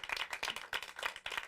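Studio audience applause on a late-night talk show premiere, a short patch of quiet, scattered clapping heard from a distance, with no one talking.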